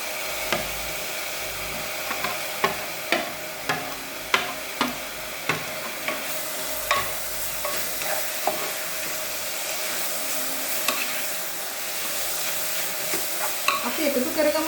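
Cut mushrooms stirred into a dark, tempered paste frying in a pan for a mushroom curry, with a steady sizzle under repeated sharp scrapes and knocks of the spoon.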